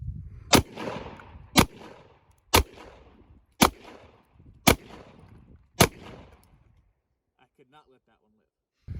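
Six loud, sharp gunshots from a .45 Super handgun ring out at roughly one-second intervals outdoors, each a close crack with a short decaying tail, followed by a quiet pause and faint sounds.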